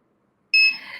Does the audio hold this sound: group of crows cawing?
no